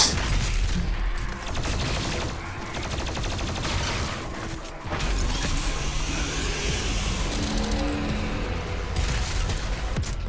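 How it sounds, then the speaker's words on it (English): Plasma gun fire in the video game Doom Eternal: a dense, continuous stream of rapid energy shots mixed with explosions and combat noise, loud and steady throughout. "Just spam the plasma gun."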